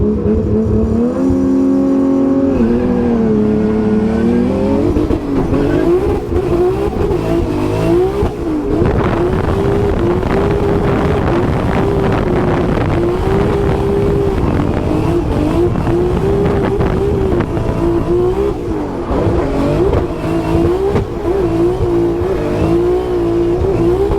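Drift car at Formula Drift Orlando roars loudly through its run up, engine note rising and wavering with a momentary stumble as the power cuts out, then continuing at high revs with tire noise.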